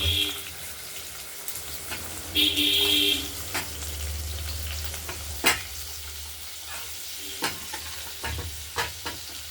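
Diced potatoes and cauliflower frying in oil in a wok give a quiet, steady sizzle, broken by scattered clinks and scrapes of a utensil stirring the pan.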